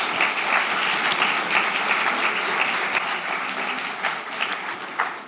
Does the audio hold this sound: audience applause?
yes